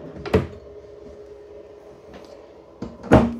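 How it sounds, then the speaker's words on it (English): Two sharp clunks about three seconds apart as a full-extension ball-bearing drawer in a travel trailer kitchen glides shut and knocks closed, with a faint rolling slide between them and no voices. "And you have full extending ball bearing drawer guided drawers."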